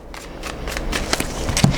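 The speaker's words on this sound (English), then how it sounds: "One more shuffle." A deck of tarot cards being shuffled close up, a quick series of crisp, riffling slaps and rustles repeating in an even rhythm, with no talking.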